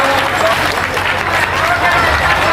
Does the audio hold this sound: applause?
yes